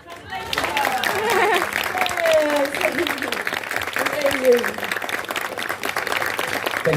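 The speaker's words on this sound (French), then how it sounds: "Give her a round of applause." Audience applause fills the space at a fan convention, a steady wash of clapping from a crowd that carries on for several seconds with voices mixed in.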